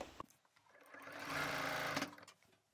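Sewing machine stitching a single-layer one-handle eco bag, running in one steady continuous burst of about a second and a half that rises in the middle and fades out, close and alone with no talk.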